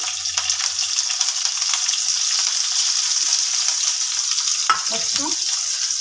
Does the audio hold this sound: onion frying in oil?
yes